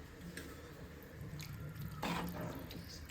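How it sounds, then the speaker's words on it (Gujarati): Water is poured into a tomato gravy for paneer butter masala in a home kitchen, a faint, quiet trickle and splash with a slightly stronger gush midway and no speech. "આપણે તેમાં પાણી ઉમેરીશું ગ્રેવી બનાવવા માટે થઈને"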